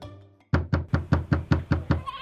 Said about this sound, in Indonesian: Tiba-tiba, seseorang mengetuk pintu